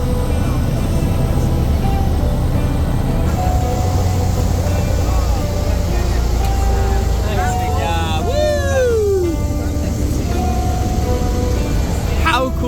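Seaplane engine drone on final approach and landing, a steady loud hum with shifting tones throughout, while people talk over it and a brief squealing sweep rises near the end.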